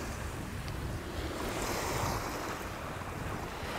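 Surf on a beach at Koh Samui, Thailand, at high tide: a continuous wash of waves mixed with strong wind rumbling on the microphone, loud and steady with no voices.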